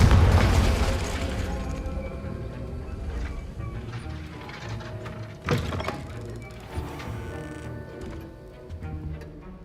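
Confringo blasting spell going off in Hogwarts Legacy: a loud burst at the start and a sharp booming hit midway, set over steady game music and mechanical clanks.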